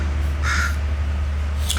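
A crow caws near a house where a blocked, collapsed rain gutter is being repaired, one clear harsh caw standing out over a steady low hum, with a fainter call at the end.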